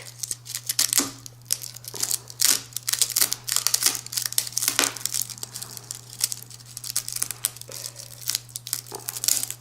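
A rattlesnake's tail rattle is torn in half by hand, giving close, dry crackling and crinkling snaps in irregular bursts with brief pauses between them.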